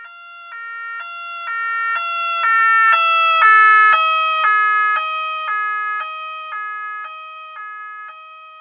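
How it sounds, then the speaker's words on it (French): An ambulance siren passes a person standing at the roadside. Its loud, regular two-tone wail swells as it approaches, then drops slightly in pitch and fades as it moves away, with no other sound. "écoute la sirène d'une ambulance qui passe"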